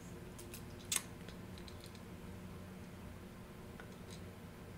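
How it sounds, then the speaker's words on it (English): Scissors snipping through stencil material, a few faint close cuts with one sharper snip, in a quiet room. "Prefer to cut my own stencils."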